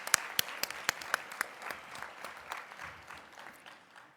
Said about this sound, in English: let's please, one more round of applause for these guys